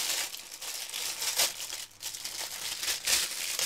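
Plastic packaging around a pencil case crinkles steadily and loudly up close as it is unwrapped, with brighter rustling bursts scattered throughout.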